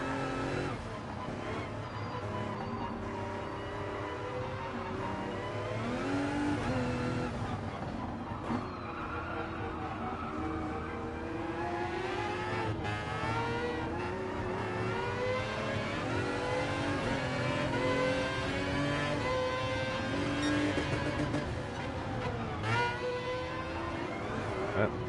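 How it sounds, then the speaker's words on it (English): Engine of a Vision GT race car in Gran Turismo Sport during a Group 1 endurance race at the Nürburgring GP, a steady high, whiny rising-and-falling drone of revving and shifting, with other race cars roaring around it throughout. "That might be the most annoying sounding car in the world."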